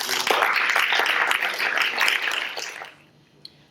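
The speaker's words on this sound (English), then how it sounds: "if you would join me in giving yourselves a big round of applause" An audience at a public meeting on San Francisco police accountability gives a round of applause, a dense burst of clapping that holds for about two and a half seconds, then quickly dies away to near silence.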